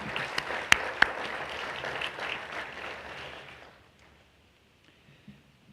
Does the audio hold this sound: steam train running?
no